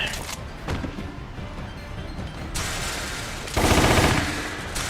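Automatic pistol firing in Resident Evil, rapid bursts of shots in quick succession, with a louder, denser burst near the end.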